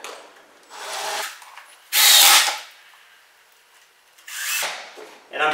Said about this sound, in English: I'm going to put 5 screws in here.